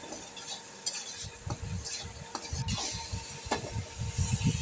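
Chicken pieces being stirred and sautéed in a pan, giving soft repeated scraping and stirring strokes over a low sizzle, fairly close and moderately quiet.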